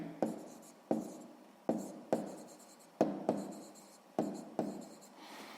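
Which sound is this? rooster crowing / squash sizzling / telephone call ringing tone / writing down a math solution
writing down a math solution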